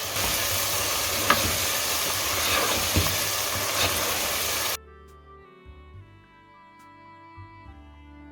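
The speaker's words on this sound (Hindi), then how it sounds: "अब हम 1 मिनट के लिए धनिया पाउडर के साथ चिकन को अच्छे से फ्राई कर लेंगे।" Chicken frying with coriander powder in a pan gives a dense, loud sizzle with stirring scrapes for about five seconds, then it cuts to quiet background music.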